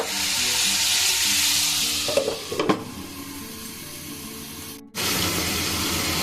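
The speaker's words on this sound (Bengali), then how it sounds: "এটাকে ঢাকা দিয়ে দেবো যাতে ভাজা হয়ে যায়" Bitter gourd tossed with spices, ginger and garlic sizzles steadily in a pan, loud and continuous with a few clinks of stirring, then the hiss cuts briefly as a lid goes on before the frying resumes.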